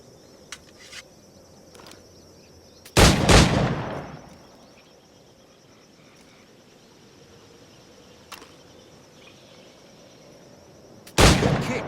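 Two loud, sharp firearm shots in the pirate-era video game Assassin's Creed 4 Black Flag, the first near three seconds with a ringing tail and the second near the end, separated by quiet ambience and a few faint clicks.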